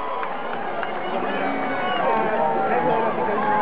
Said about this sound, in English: Did I hear somebody boo the White Sox?